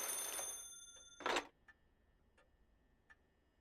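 Fax machine in the game Paranormasight rings like a telephone, a burst of bright ringing followed by a short chirp and then a few faint isolated ticks against near silence.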